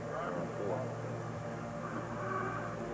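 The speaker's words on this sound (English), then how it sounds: "Our job is to get these airplanes up to the catapults, get them off the deck." Jet aircraft roar steadily on an aircraft carrier deck as planes are moved to the catapults for launch, a loud, continuous engine drone that fills the whole stretch, with faint voices mixed underneath.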